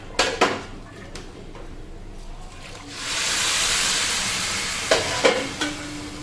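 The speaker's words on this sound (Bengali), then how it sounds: "জলটা দিয়ে দিই।" Boiled spiced water hits a pan of fried rice with a rising, steady hiss of steam and sizzle, framed by a few clattering knocks of utensils against the pan before and after.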